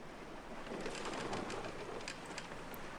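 Steady rain in the video game The Journeyman Project 3, a dense, even hiss with faint cooing bird sounds mixed in, no talking.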